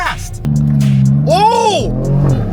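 A 2026 Dodge Charger drag build accelerates hard and close, its loud engine note climbing sharply in pitch, then dropping away as it shifts.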